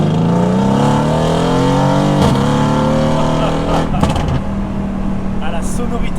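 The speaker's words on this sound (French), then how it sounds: "Ah, la sonorité que tu as. La sonorité de ce moteur." A Mercedes C63 S AMG engine revs up in rising sweeps, with a couple of sharp crackling pops from the exhaust; a voice talks over it.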